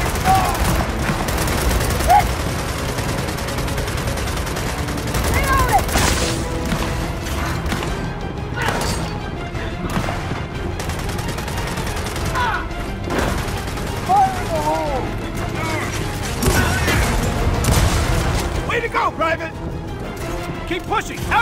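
Battlefield gunfire from Gears of War 4, with dense bursts of automatic shots, crashes and impacts throughout, loud and close, mixed with shouting voices and combat chatter.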